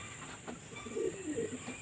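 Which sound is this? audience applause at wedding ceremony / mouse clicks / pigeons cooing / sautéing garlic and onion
pigeons cooing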